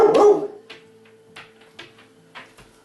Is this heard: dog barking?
yes